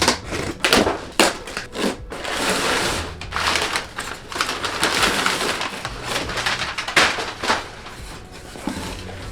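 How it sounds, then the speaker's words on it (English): Packing tape on a box is cut and torn with an X-Acto knife while unboxing: close, scratchy rips and crackling slices come in quick irregular bursts, with no talking. "I went to get the world's worst X-Acto knife to do this little mini unboxing. It's a lot of tape."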